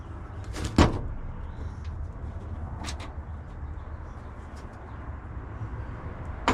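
A door shuts on a 1955 Triumph TR2 raised on a lift, one sharp close near the start, then quieter clicks and light handling noises against a low background.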